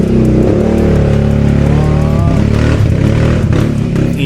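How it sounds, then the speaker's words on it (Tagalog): A noisy motorcycle roars past nearby, its engine loud and rough with rising revs, then fading slightly as it moves away. "Ayop na motor yan, napakaingay."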